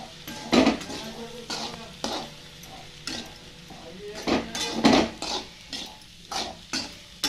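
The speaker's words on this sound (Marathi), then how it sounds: "बटाटा मिरच्या अगोदर परतून घेऊ" Potatoes and green chilies sautéing in a pan for sabudana khichdi, with repeated scraping stirs and clinks of a utensil against the pan over a soft sizzle, close and moderately loud.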